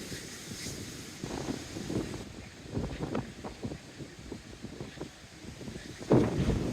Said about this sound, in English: I couldn't hear it coming over the wind. It's blowing right in my face at the moment.